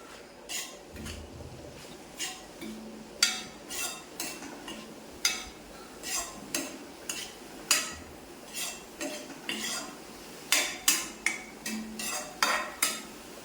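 A spoon scrapes and clinks against a pan while leaf-and-stem thoran stir-fry made with sprouted elephant foot yam stalks and leaves is stirred. The metallic strokes repeat steadily at close range, around one per second, with quiet gaps between them.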